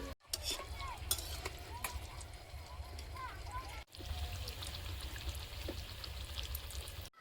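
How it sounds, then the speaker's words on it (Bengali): Chicken patties frying in hot oil in a home kitchen, a dense steady sizzle with crackling that carries on throughout, briefly dipping partway through, with faint low rumbles underneath. "সবগুলো কিন্তু ভাজা হয়ে গেছে আমি একটু আর একটু কড়া করে নিচ্ছি"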